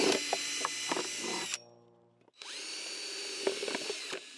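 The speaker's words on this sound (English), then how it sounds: "So we're just using a drill" A power drill bores drainage holes in a seed-planting container, whining loudly and close, stopping briefly as the motor winds down, then revving up again.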